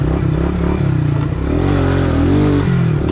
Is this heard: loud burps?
no